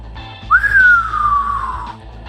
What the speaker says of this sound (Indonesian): Didahului oleh suara siulan yang melengking tinggi laksana mau merobek gendang-gendang telinga